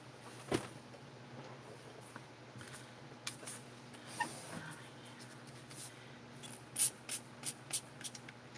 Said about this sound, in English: I have a spray bottle of water.